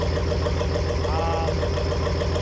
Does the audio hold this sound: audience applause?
no